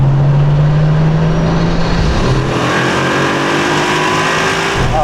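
A car accelerates hard on a de-restricted Autobahn stretch, a loud steady engine note climbing in pitch under heavy road and wind roar, with a gear change partway through.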